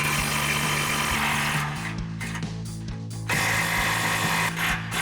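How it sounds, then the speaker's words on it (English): An impact wrench with an 18 mm socket backs out rear bumper bolts on a 2021-2025 Ford Bronco, giving a loud, steady mechanical whir that shifts pitch briefly midway and then resumes. "We'll grab our 18 millimeter socket on our impact, get these 2 bolts out"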